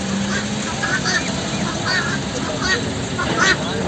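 Short squawking rooster calls repeat every half second or so over a noisy, busy outdoor background at a Maghi fair horse market in Punjab.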